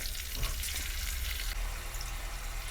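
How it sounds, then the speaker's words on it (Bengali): Onion, tomato and ginger paste fry in a pan with a steady, fairly quiet hiss running throughout and a few faint stirring knocks, with no voices. "কুচিয়ে রাখা টমেটোগুলো দিয়ে দিচ্ছি লাল লাল করে ভাজা হয়ে গেছে পেঁয়াজ আদার পেস্টটা দিয়ে দিচ্ছি"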